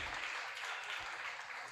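A church congregation applauding in a continuous, even wash of clapping, moderately loud throughout.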